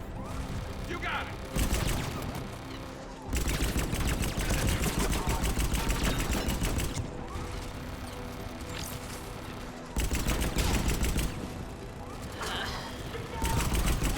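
Rapid turret gunfire from two automated turrets in the Mass Effect video game, dense continuous bursts filling the scene, loud and sustained with brief lulls, under occasional voice.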